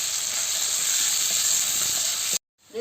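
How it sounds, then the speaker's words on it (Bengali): Eggplant and pumpkin pieces fry in a pan with a loud, even, hissing sizzle that continues steadily, then cuts off abruptly near the end. "দিয়ে ভালো করে সবজিগুলোকে ভেজে নিচ্ছি"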